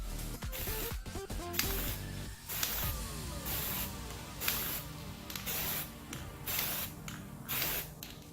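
Clear coat sprays from an aerosol can onto an Xbox One controller in long, steady hissing bursts, loud and close, broken by short pauses and faint rattling.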